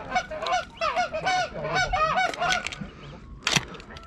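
Geese honking repeatedly in a loud, overlapping chorus during a goose hunt in New Zealand, with a sharper burst near the end.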